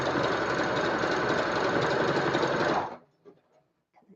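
A sewing machine runs steadily while stitching a Harley Quinn costume, a loud, fast, even mechanical whir for about three seconds before stopping abruptly, leaving faint handling noises.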